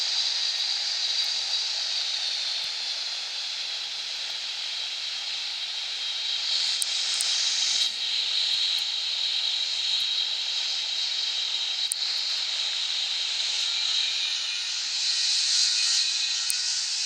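Turboprop engines of a U.S. Navy C-130H Hercules taxiing at LAX in the Infinite Flight simulator, a steady loud hissing whine with a constant high-pitched drone that swells slightly now and then, heard alone without talk.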